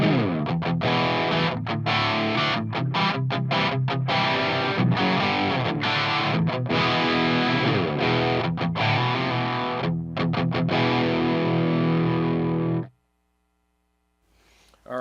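Electric guitar plays heavy, distorted rhythm chords through a Marshall JVM410H amp on its orange channel with an overdrive pedal, loud and up close, with choppy stops before ringing out into silence near the end.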